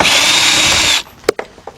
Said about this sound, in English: get our cordless drill with our 3/8 adapter on it for sockets and a 10mm deep socket